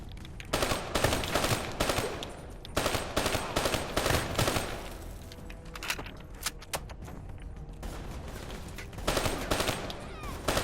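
Automatic weapon fire in Black Ops 3 rattles in loud, rapid bursts separated by short pauses, with scattered sharper shots and faint clinks between volleys.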